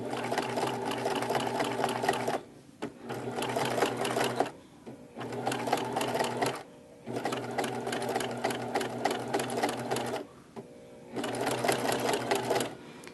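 A sewing machine runs in long, steady bursts, stitching rows of a rag quilt through thick layers of fabric, pausing briefly between runs; the motor and needle clatter sound loud and close.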